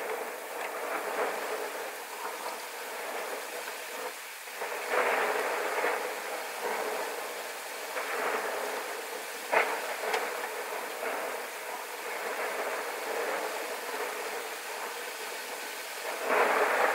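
Steady rain hisses throughout, with several louder surges of heavier downpour and a low rumbling in the distance.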